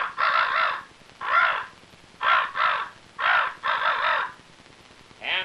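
A voice imitates crows cawing over a farm, with a loud, clear series of harsh caws, mostly in pairs with short pauses between them, and no other voices.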